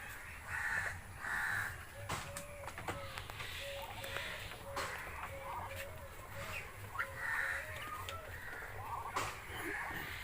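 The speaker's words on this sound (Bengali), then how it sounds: "এই যে চীনা হাঁস দেখেন" Chinese ducks call on a farm in Assam, a steady run of short, repeated honking quacks in an even rhythm over a constant busy background.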